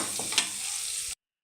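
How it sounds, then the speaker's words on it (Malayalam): Mustard seeds frying in hot oil on low heat for a pumpkin and cowpea curry, a steady close sizzle with one sharp pop early on before it cuts off abruptly. "കടുകൊക്കെ നന്നായിട്ട് മൂപ്പിക്കാം"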